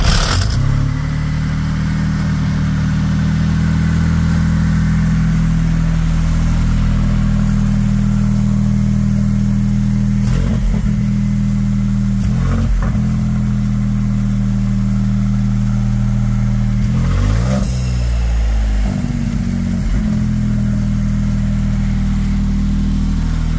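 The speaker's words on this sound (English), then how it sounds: "we have this nice little test engine here behind me." Ferrari 296 test engine running on an eddy current engine dyno, a steady loud mechanical drone with a few rev changes and brief surges, heard close with no talking.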